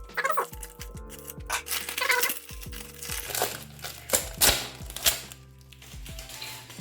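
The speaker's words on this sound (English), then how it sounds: "I'll just quickly peel off the cover" Crinkly plastic film being peeled and crumpled off a colored pencil tin, close and uneven, with sharp crackles and rustles over a steady musical background.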